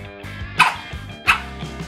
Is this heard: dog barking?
yes